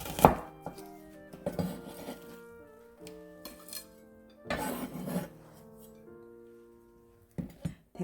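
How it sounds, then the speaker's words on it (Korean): A knife slices onion diagonally against a cutting board in irregular strokes, with sharp clicks and a few light clinks of kitchenware between the cuts. "양파 어슷어슷 썰어주겠습니다"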